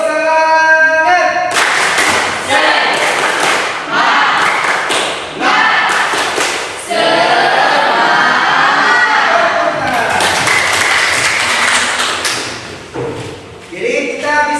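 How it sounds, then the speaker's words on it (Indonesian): A classroom of students performs a rhythmic spirit clap routine, rapid patterned handclaps and thumps in quick bursts with short pauses, voices chanting along between the sets. "Tepuk semangat!"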